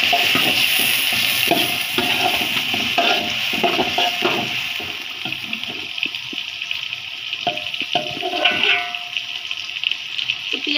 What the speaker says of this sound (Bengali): লাল করব না, আমি একটু করে মানে নরম করছি পেঁয়াজটা